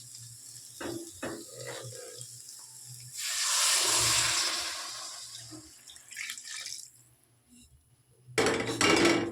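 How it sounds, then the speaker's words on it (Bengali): Hot water poured into a pan of fried soybean, potato and spices gives a loud hissing, splashing rush that lasts a couple of seconds, with kitchen clatter before and after. "এবার জল দিয়ে দেবো, চলো জলটা দিয়ে দিই।"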